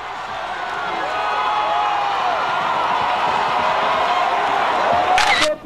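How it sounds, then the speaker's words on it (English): A crowd at an outdoor Christian healing crusade in Africa cheers and shouts excitedly in a steady, dense roar that holds for several seconds, with a brief bright burst near the end. "The crowd cheered with great excitement as he demonstrated his miracle with great exuberance"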